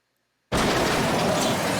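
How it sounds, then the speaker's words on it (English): A car crash hits abruptly after half a second of silence, a sudden loud burst of crashing metal that carries on as a dense, sustained noise to the end, close and with no voices. "A scream followed by a crashing metal. Someone crashed their car."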